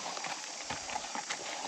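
Donkey hooves clip-clop on a road in Matheran, India, making faint, irregular steps against a hiss of outdoor background noise.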